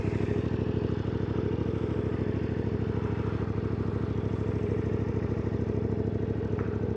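The engine of a CFmoto 450 MT adventure motorcycle runs at a steady, even idle, close by and loud, throbbing continuously with no speech over it.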